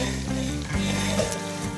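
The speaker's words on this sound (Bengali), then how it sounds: "এখানে মাংসর আলু ভাজা হচ্ছে" Potatoes fry for a meat dish, giving a dense, close sizzle with a few soft stirring bumps, steady throughout and without talk.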